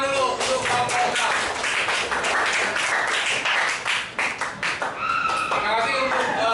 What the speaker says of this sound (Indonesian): Tepuk tangan dulu untuk kelompok 6.